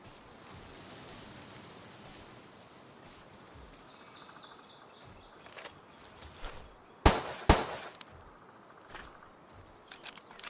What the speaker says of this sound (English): Is that you shooting things?